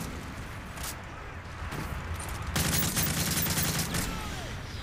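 Gunfire in Call of Duty Modern Warfare 3 rattles in dense, continuous bursts that grow louder partway through, heavy and close over a busy game background, with no words spoken.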